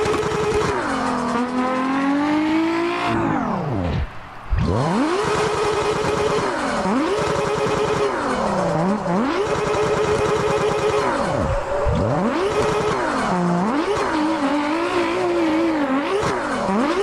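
A car drifting in a sim racing video game, its engine loud and close, revving up and down in repeated swoops with a brief drop-off partway through, with no voices.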